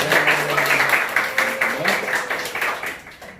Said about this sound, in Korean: 환영하는 마음으로 박수를 하겠습니다